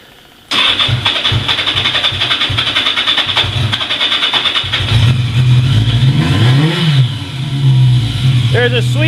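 An old motorcycle engine owned since high school starts abruptly after a brief quiet moment, then runs loud and close with a steady, rapid idle and rising and falling throttle revs, while a person talks over it.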